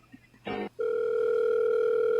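An odd electronic telephone tone sounds on a live radio show: a short warbling burst, a brief pause, then one sustained steady tone that holds to the end.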